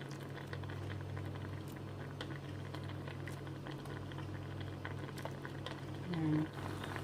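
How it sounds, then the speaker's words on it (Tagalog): A soft, continuous bubbling of chicken broth with Sprite and oyster sauce simmering in a pot, steady and close, with a brief louder gurgle near the end. "kumukulo na po siya"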